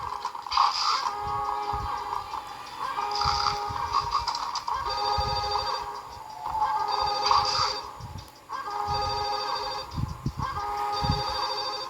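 A telephone rings repeatedly in the Max Payne PS2 video game, loud bursts of bright ringing in a regular pattern with short gaps between, over low mechanical background noise.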